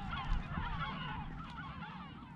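Seagulls on a Mediterranean island give a dense chorus of overlapping honking and squawking calls, steady and fairly near, over low wind noise.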